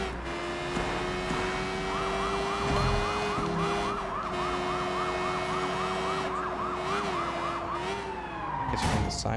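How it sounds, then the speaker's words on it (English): Emergency vehicle sirens wail in the video game Sleeping Dogs, a steady rising-and-falling electronic siren with a fast warbling pattern over engine and street noise, loud and close for most of the span. "It's from the sirens."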